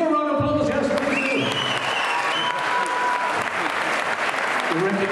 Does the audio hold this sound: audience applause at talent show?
yes